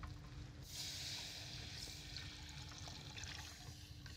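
Milk is poured into a roux for béchamel sauce, giving a faint, continuous liquid trickle and splash that lasts a few seconds, quiet and close.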